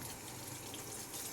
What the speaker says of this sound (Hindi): साथ इसमें डाल दूँगी मैं थोड़ा सा पानी